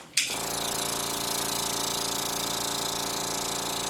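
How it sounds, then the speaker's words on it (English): A vacuum pump switches on abruptly and settles into a loud, steady mechanical drone with a fast rattling pulse, running continuously while testing the valve seat seal on a Willys engine head. "I'm going to turn the vacuum pump on"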